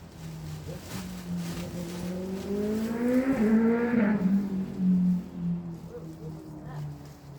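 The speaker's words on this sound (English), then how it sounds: "Motorbikes," Motorcycles pass by outside a home's front porch, a distant engine drone that rises to a loud pitch-shifting pass and then fades, with a voice speaking over it.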